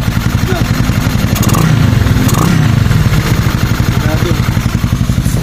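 Yamaha Mio Soul 160 scooter engine, refreshed with a big valve kit, running steadily at close range with a dense low rumble and some light clatter, under a voice.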